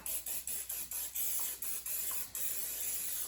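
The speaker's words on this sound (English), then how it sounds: "this is just canola oil I'm gonna spray" An aerosol can of canola oil hisses in a rapid series of short spray bursts onto a cast iron pan, close and fairly quiet.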